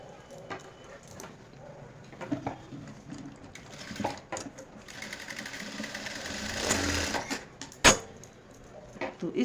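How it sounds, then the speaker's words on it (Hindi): A sewing machine stitches a seam along the shoulder of a woolen kurti, its mechanical whir and rattle running close by in uneven bursts with small clicks and clatter between them. "यहाँ पे हम सिलाई लगा लेते"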